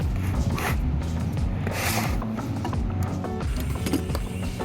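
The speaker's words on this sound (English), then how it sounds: "So right now I'm deflating the tire so I can put some slime in it." Air hisses from a bicycle tire as a valve core removal tool lets it deflate, a continuous close rushing sound broken by small clicks and mechanical rattles, with no talk.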